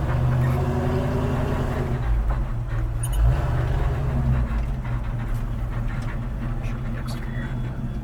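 A 1958 Chevrolet Apache pickup truck cruising down the road, its steady low engine drone and road rumble heard from inside the cab, continuous and fairly loud throughout.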